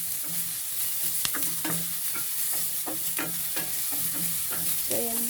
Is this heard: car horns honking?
no